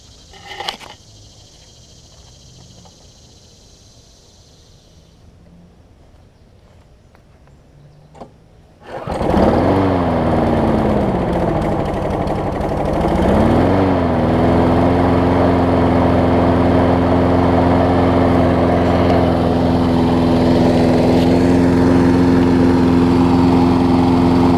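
A John Deere JS360 lawn mower with a Briggs & Stratton engine, freshly washed, is started after a quiet stretch with a few clicks. It catches abruptly, revs and settles into a loud, steady, close running drone.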